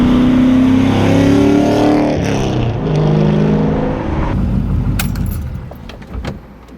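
A built LS V8 swapped into a BMW E36 revs hard while driving, heard from inside the car as a loud rising engine roar that drops through gear changes and eases off into lighter clicks and rattles.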